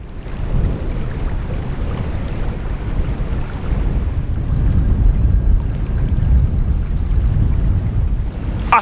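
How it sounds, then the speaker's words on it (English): Strong wind roars steadily with heavy low rumble buffeting the microphone, a continuous rushing noise with no voices. "It is pretty windy today"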